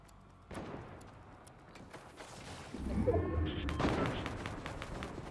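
Gunfire in a Counter-Strike: Global Offensive match, a few muffled shots and thumps at a distance, growing busier midway, with faint game ambience between bursts.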